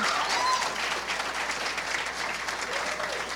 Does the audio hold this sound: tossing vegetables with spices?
no